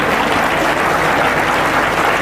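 An audience at a school Foundation Day and Grandparents Day celebration claps steadily to welcome a guest, a dense, even burst of applause with no break.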